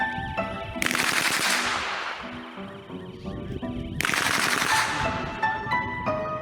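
Full-automatic gunfire rips out in two long, loud sustained bursts, the second following a short lull, with dense rapid-fire shots filling the space.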